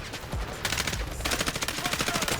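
Rapid automatic gunfire in the video game Delta Force, loud and close, with bursts of repeated shots that break into a steady rattling rhythm toward the end.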